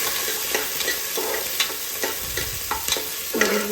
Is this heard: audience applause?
no